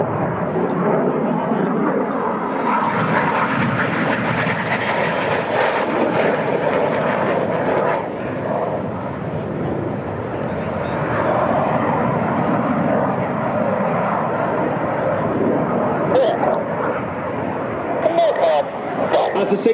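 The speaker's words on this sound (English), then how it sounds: "Each aircraft now turning hard as they complete the manoeuvre called Cyclone." RAF Red Arrows jets flying an airshow display at Sywell, a sustained loud roar of jet engines rising and falling as the aircraft turn hard overhead, with a commentator talking throughout.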